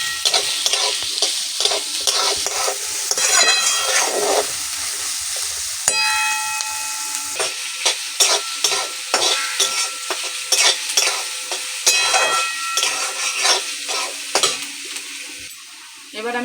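Chopped onion and potato fry in a pan for chire pulao. The sizzle is continuous, a spatula stirs them, and the pan gives frequent clinks and scrapes, with no talking.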